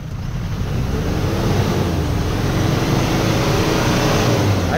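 A diesel engine, a 4JX1 in an Isuzu Trooper with low power and heavy white smoke, roars close to the microphone as the revs climb, under wind-like noise without talk.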